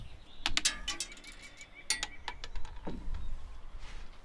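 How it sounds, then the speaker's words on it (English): A plastic poultry watering cup being screwed by hand into an existing hole, giving a few close, sharp plastic clicks and ratcheting creaks in short bursts, alone without talk. "So it did screw into the existing hole."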